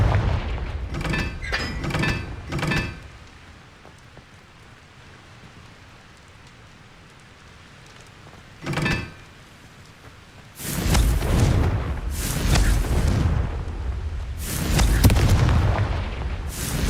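The Confringo fire spell in Hogwarts Legacy lets off several quick blasts early on, another lone burst midway, then a run of loud, rolling explosions with crackle in the later seconds.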